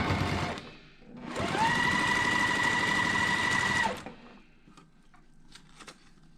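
Sewing machine stitching quilt block pieces, a sustained close, loud whirring run of about two seconds after a brief start, then falling quiet with a few light clicks and handling sounds.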